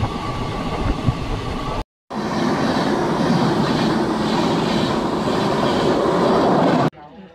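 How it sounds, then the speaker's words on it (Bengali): The 13319 Ranchi Intercity Express approaches a station in rain with a loud, steady rolling rumble and clickety-clack of wheels. A brief silent gap comes early, the rumble fades out at the end, and a voice may be faintly present. "আর এখন আমাদের ট্রেন আসছে"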